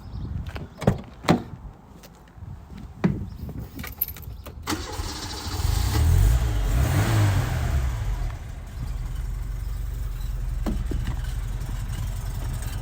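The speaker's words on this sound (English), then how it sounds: "I'll start it up for you." A 1988 Bedford Astravan Mk2 with a 1.3-litre engine and a new battery: a few clicks and thumps, then the starter cranks and the engine catches and settles into a steady, close idle.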